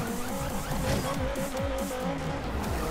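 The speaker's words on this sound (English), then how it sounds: "Wheel spin!" Tires squealing and screeching under wheel spin in Forza Horizon 2 on Xbox One, with a car engine whining and revving steadily underneath, loud and close for the whole stretch.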